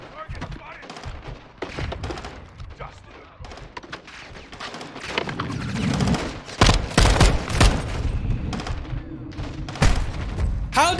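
Rapid gunfire and bursts of automatic weapons fire in a Call of Duty Modern Warfare 2 campaign battle, loud and close with heavy booms and thuds, intermittent shouted voices in between.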